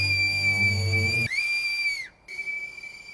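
Whistling from the anime Attack on Titan: a shrill, sustained note holds, then wavers and bends down in pitch, cuts off briefly, and returns as a quieter steady tone.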